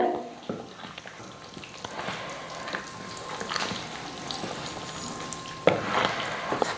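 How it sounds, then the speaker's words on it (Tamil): Ghee and ghee-roasted cashews drop into thick wheat-flour Tirunelveli halwa cooking in a pan, with a soft bubbling sizzle, a couple of distinct thuds as they land, and stirring scrapes close by. "இப்போ நெய்யில் வறுத்த முந்திரியும் நெய்யும் சேர்த்துக்கலாம்"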